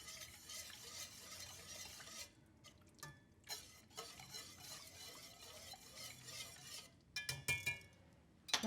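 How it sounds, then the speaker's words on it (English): A whisk stirs beef broth into gravy for Salisbury steak, giving soft, quiet swishing with occasional clinks against the pan and a faint sizzle underneath. "Now I'm just gonna add the remainder of the beef broth. Okay. And whisk that all together."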